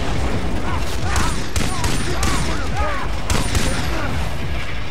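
Dense combat in Far Cry 3 with rapid gunfire bursts and booming explosions, loud and continuous, with a voice talking over the chaos.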